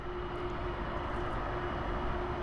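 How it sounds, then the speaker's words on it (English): Air Force One taxiing slowly at an airport, a steady, moderately loud jet engine whine and rumble holding one tone throughout, heard from a distance with no talk. "Just getting a better vantage point right now of Air Force One coming in here."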